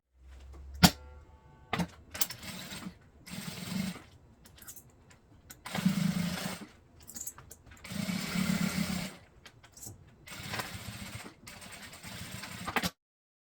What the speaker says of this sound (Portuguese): Eu vou para a máquina e vou passar uma costura.